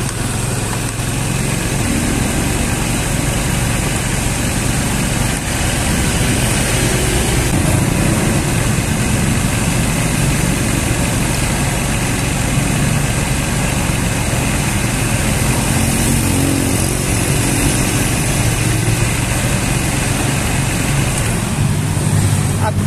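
A carbureted Honda Beat scooter engine runs steadily at a raised throttle setting, a loud continuous close-up drone with no pauses or change in pace across the whole stretch.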